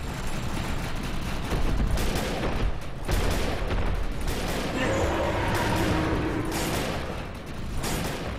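Rapid bursts of gunfire and heavy booms during a boss fight in the shooter game Defiance, dense overlapping shots with mechanical clatter filling the whole stretch.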